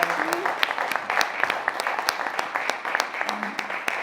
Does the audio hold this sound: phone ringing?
no